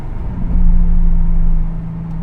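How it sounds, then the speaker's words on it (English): A car fitted with a Z1 Touring cat-back exhaust holds a steady, close, deep engine drone with a low hum that swells slightly and then eases, with no talk over it. "I love that you can hear the exhaust the intakes"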